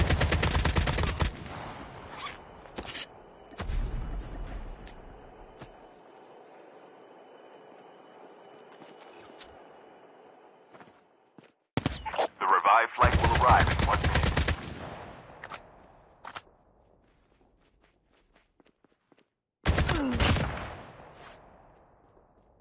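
Custom AK-47 gunfire in the mobile shooter Call of Duty Mobile: loud, dense automatic bursts, several long sprays separated by lulls, with a steady mechanical hum between volleys.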